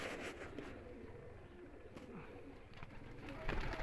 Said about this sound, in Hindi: ये ओरिजिनल हालत में टैडी कबूतर है